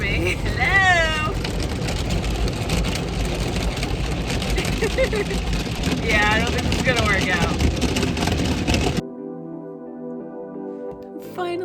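An automatic car wash runs around a car, a loud, steady rushing roar that fills the space for several seconds while a person talks over it, then drops away abruptly into a quieter hum.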